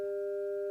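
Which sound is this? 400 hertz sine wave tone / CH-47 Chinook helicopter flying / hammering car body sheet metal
400 hertz sine wave tone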